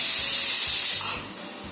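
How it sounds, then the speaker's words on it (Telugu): A pressure cooker with spinach and raw mango dal vents steam in a loud, close, sharp hiss that eases after about a second into a softer steady rush, with no voices. "5 విజిల్స్ వరకు రావాలండి కుక్కర్."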